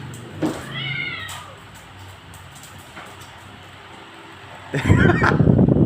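A cat lets out drawn-out, wavering meows and a yowl while fighting a dog, then a sudden loud scuffle of hissing and scrabbling noise breaks out near the end.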